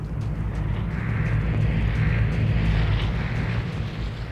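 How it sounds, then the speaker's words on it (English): Cargo plane passing overhead to drop supplies in the game Vigor, a steady low droning engine roar that swells slightly and then eases, fairly loud with no talking. "Airdrop is now leaving the plane, the cargo plane, and coming down to the ground"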